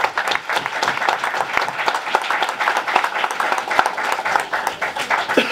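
A congregation at a religious gathering gives a round of applause: dense, sustained clapping from a crowd that stays loud throughout, with a few voices mixed in.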